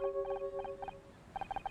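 The Janus diagnostic reader in the Murder by Numbers video game gives a quiet electronic beep: a steady tone, then clusters of short, evenly paced bleeps.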